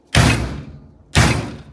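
On a workstation used for RC hobby gear, a drawer is pulled out twice, each time a loud, rolling slide with a thump, the two motions about a second apart and close by.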